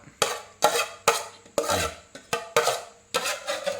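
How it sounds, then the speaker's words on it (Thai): Crab larb, a Thai-Lao minced crab salad, being scooped into a serving bowl: eight sharp spoon-and-bowl strikes repeat roughly every half second, each trailing off in a short scrape, close and clear with no talking. "ตักใส่ถ้วยพร้อมเสิร์ฟเรียบร้อยนะครับเนาะ"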